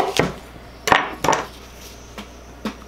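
Knife chopping onions on a board in a home kitchen, with a few sharp, uneven chops close up and no talk.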